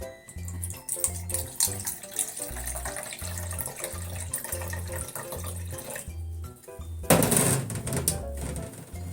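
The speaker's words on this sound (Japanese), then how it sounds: "そしてここにね、 酢も入れて、" Vinegar pours in a short, gushing splash into a pot, over a steady rhythmic music backing.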